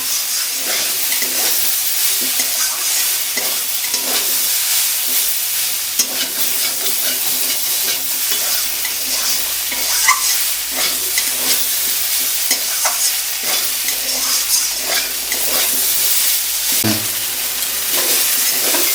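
Soybean chunks and egg curry sizzle steadily in a pan while a spatula scrapes and stirs in a regular rhythm, close and continuous with no talking.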